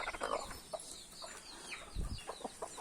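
Hens brooding over freshly hatched chicks give soft, short clucks and low murmurs, a few close notes scattered unevenly across a quiet coop.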